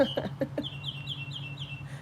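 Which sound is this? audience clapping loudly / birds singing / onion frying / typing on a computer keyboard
birds singing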